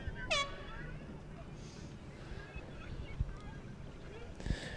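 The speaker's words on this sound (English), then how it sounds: "And there's the first horn." A horn sounds at the finish of a varsity eights rowing race at Clemson, one short blast near the start over steady outdoor wind noise and background voices, with faint thuds later.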